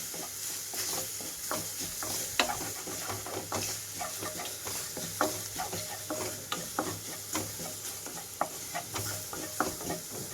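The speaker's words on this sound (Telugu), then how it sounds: "వెల్లుల్లి వేసాం కాబట్టి 2 నిమిషాల పాటు అయితే వేయించుకుంటున్నాను లో ఫ్లేమ్లోకి టర్న్ చేసి" Garlic fries in a pan over a low flame while rasam is being made, giving a steady close sizzle broken by frequent sharp clicks and scrapes as it is stirred.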